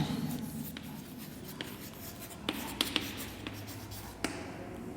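Chalk or marker writing on a board during a maths lesson, soft scratchy strokes with a few sharp taps, quiet and close, with faint voice-like sounds in the background.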